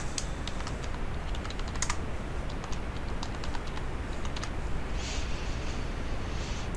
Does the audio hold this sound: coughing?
no